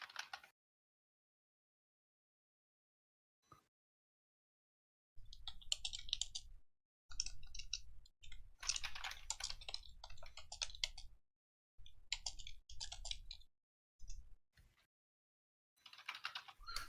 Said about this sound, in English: he's typing something now